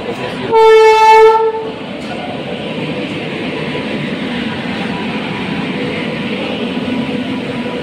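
A train sounds a short, loud horn blast on arrival at a Gujarat station platform on the Jamnagar–Ahmedabad route, followed by a steady rumbling roar of the rolling carriages, with no one speaking.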